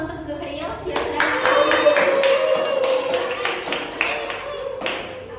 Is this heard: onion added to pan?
no